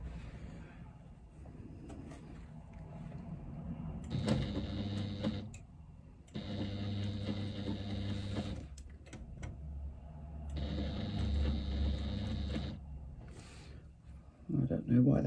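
Sewing machine stitching fabric piping with piping cord, several bursts of rapid mechanical whirring separated by pauses, with a person talking throughout.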